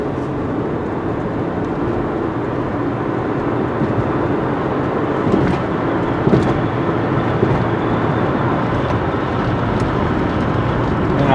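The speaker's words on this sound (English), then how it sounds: "So it's normal driving. I'm gonna drive the street normally." A 2000 Honda Accord fitted with a short ram intake cruising on a street at normal speed, giving a steady, continuous road and engine drone from inside the car with no talking.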